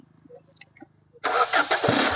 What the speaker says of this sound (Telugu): ఇది కూడా సింగిల్ సెల్ఫ్ అయితే స్టార్ట్ అవుతుంది బండి